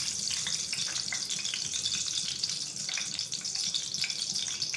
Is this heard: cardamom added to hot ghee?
yes